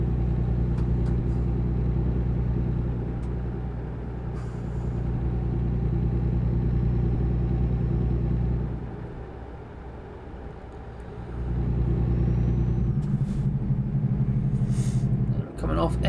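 Steady low engine drone and tyre rumble from a truck cruising a highway in American Truck Simulator, continuous and loud, dipping briefly midway, with someone talking over it throughout.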